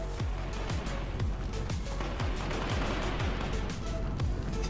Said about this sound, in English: One person is shooting someone.